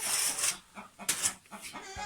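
Chickens cluck softly in a few short bursts against a hissy, noisy background, fairly distant and faint.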